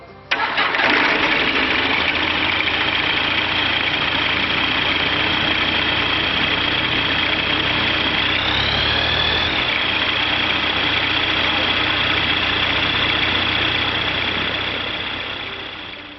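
A Rotax 912 aircraft engine cranks and catches, then settles into a steady loud idle during carburettor synchronisation, with a brief shift in pitch midway before tapering slightly at the end.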